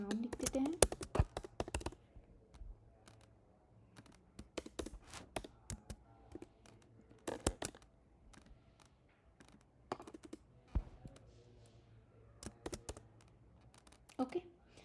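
Typing a variable name on a computer keyboard, clusters of close key clicks and taps in short irregular bursts separated by quiet gaps, with someone speaking at times.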